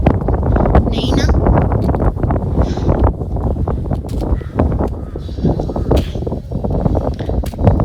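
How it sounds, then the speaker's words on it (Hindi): Strong mountain wind buffets the microphone near Shikari Devi temple in Mandi, a loud continuous roar and rumble throughout with gusts, while someone speaks underneath. "एक तो बहुत हवा चल रही है इसलिए मेरी आवाज़ नहीं आ रही होगी"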